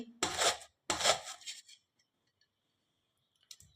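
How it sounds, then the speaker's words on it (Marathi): Raw green mango rasped on a thick kitchen grater in two quick strokes, close and dry, then silence with a faint clink at the end. "आपल्याला या किसणीने ही कैरी किसून घ्यायची आहे"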